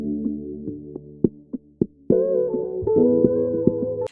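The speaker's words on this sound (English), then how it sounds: "I added an auto filter, you know, to give this water effect." A mellow beat intro with soft plucked tones and thumping hits, swept by a bubbly, watery auto filter effect that opens up midway; no voices.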